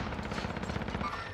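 Rapid bursts of automatic gunfire in the video game Call of Duty Warzone, a quick rattling string of shots packed into a second and a half, loud and close with no talk.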